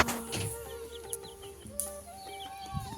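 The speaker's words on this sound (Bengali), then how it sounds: "মুরগি," Village chickens clucking outdoors on an afternoon homestead: several short, close calls and clucks scattered over a low ambient background.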